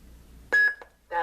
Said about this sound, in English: to switch sound banks from 1 to 2, simply hold down the button until you hear the beep